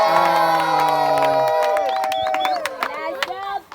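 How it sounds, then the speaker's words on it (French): A crowd cheers and claps at a francophone Adventist church youth event in Kisanga, with scattered sharp claps and shouts rising over a sustained musical drone that fades midway. "Il faut applaudir pour Joël, non?"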